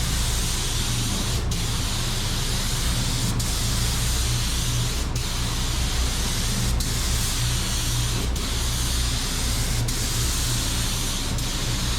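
A spray gun hisses continuously while a Mitsubishi Eclipse GSX car is spray painted, a loud, steady broadband spray with a low hum beneath and brief regular breaks every couple of seconds.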